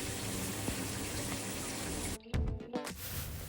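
Shower water pours steadily during hair washing, a close, even rushing spray that is briefly interrupted by a few splashes and dull knocks near the end.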